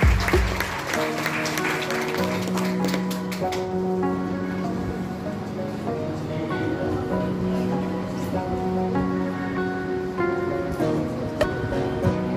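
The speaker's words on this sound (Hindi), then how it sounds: "उनके लिए तालियां बजाया जाए।" Audience applause for a second-place team from Banka, Bihar at a competition, steady clapping from a crowd layered over sustained music tones throughout, with a few louder claps standing out.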